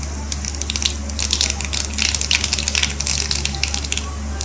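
Bay leaves and black cumin (kalo jeera) dropped into hot oil sizzle and crackle loudly in the pan, a dense, bright spitting hiss over a low steady hum, continuous and close.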